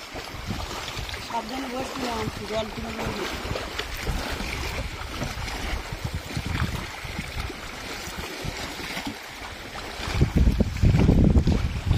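Strong wind buffets a boat on rough water near Marichjhapi forest, a loud blustery roar with microphone rumble and wave noise, brief voices early on and a heavy gust toward the end.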